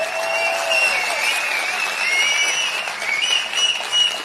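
A crowd at a Naam Tamilar Katchi political speech applauds in a loud, continuous roar of clapping, with shrill whistles rising above it and swelling toward the end.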